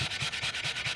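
Sandpaper scrubbing a part during Ford F53 motorhome rear differential maintenance, a loud, close run of quick, even back-and-forth strokes, about five in a second, with no voices.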